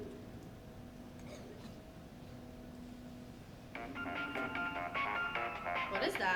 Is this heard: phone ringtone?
yes